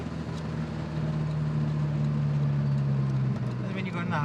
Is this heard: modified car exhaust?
yes